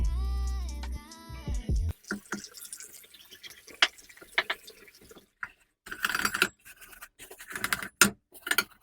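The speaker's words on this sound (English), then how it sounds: "I'm going to go ahead and scrub the tub with this product first" A bathtub is scrubbed with cleaning product in a tiny bathroom, giving close, irregular scratchy scrubbing strokes and wet rubbing bursts, some louder passages with brief pauses between.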